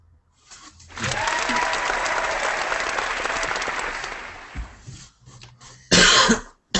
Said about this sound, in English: Can you just play that cheer one more time?